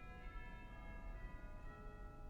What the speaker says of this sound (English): Also have a set of chimes.